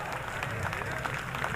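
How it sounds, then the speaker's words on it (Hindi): Mushaira audience in Karachi applauding to welcome a poet to the stage, a dense continuous patter of many hands at moderate distance with crowd murmur mixed in. "भरपूर तालियों में इस्तकबाल कीजिए रंजीत सिंह चौहान का।"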